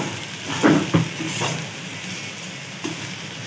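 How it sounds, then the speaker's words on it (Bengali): Potatoes frying in a pan at home on a rainy day, a soft steady sizzle with a few louder stirring clatters near the start and middle. "এখন চলছে আলু ভাজা।"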